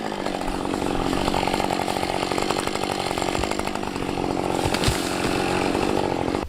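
Loud, continuous snarl of a chainsaw felling aspen trees while clearing a driveway on raw land, revving steadily close by with brief changes in pitch.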